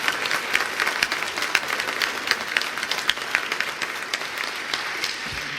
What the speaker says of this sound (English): So let us please give a round to Bob for doing such an amazing job here.